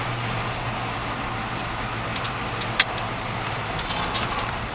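Inside a 1968 Chevy C10 pickup truck on the move, a steady low engine and road rumble runs throughout, with a few faint clicks and rattles and one sharp tap.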